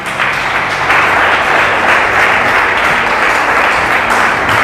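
A church congregation bursts into loud, sustained applause and clapping in praise, a dense even roar that lasts the whole moment without pause.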